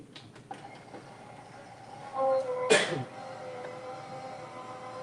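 A single sharp sneeze bursts out midway, close and loud, against a faint background hum with a brief whir just before it.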